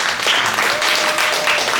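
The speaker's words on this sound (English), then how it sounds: "I want you all to give us a round of applause for Ms. T.H.E." Audience applause for a guest at a business talk event, a steady wash of clapping lasting under two seconds with a faint voice briefly audible beneath it.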